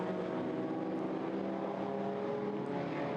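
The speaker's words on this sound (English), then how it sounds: "The Cooper Bristol being lapped by the Cooper Climax race leader." Vintage pre-1966 Grand Prix single-seaters, a Cooper Bristol being lapped by a Cooper Climax, race past at a classic circuit, a steady loud engine drone from a distance without a clear pass-by peak.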